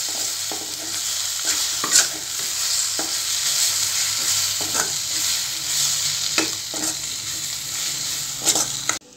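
Egg mixture is spread and stirred in a frying pan, giving a soft, continuous sizzle close by, broken by light scraping taps of a spatula against the pan.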